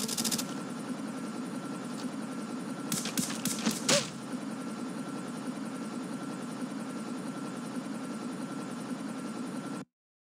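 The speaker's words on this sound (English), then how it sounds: "Friendly stealth chopper inbound." A stealth helicopter in the game Call of Duty Mobile drones steadily with a loud, continuous rotor hum, broken around the third and fourth seconds by a quick burst of gunfire, before the sound cuts off abruptly.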